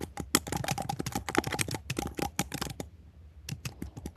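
Rapid, uneven keystrokes on a computer keyboard as a prompt is typed, close and fairly loud, with bursts of clicks broken by a short pause before a few final taps.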